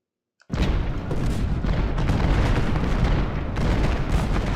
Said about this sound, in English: Their artillery is going nuts on Gamble's skirmishers.